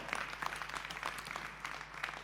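An audience at a fight event applauds, a steady wash of many hands clapping at moderate distance, fairly soft and continuous.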